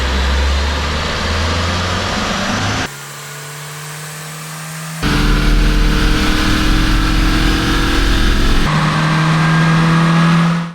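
A car engine revving on a dyno, loud and close: sustained high-rpm drone in several stretches, broken by a brief drop to a lower idle before climbing again and cutting off at the end.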